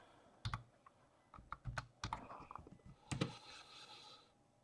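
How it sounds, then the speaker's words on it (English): Fingers tap on a computer keyboard in short irregular bursts of keystrokes, close and fairly crisp, with a quick flurry of clicks near the end and no talking. "Let me go over here and type done here."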